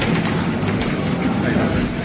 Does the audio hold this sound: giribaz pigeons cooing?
no